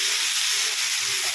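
Chutney poured into hot oil tempered with cumin seeds and a dried red chilli in a pan, a loud, dense sizzle and hiss filling the whole short moment.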